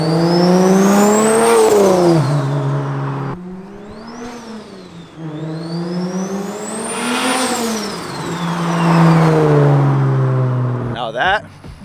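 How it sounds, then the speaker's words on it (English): BMW N54 single-turbo engine, rebuilt after blowing up, heard from outside the car as it revs up and falls back twice in long rising and falling sweeps, loud and close, with a short burst of talk at the very end. "I want to show you guys what it sounds like on the outside"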